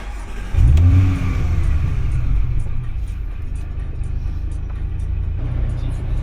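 A Porsche Macan S engine cranks and fires, flaring in a brief loud rev before settling into a steady, deep idle rumble that carries on close by for several seconds.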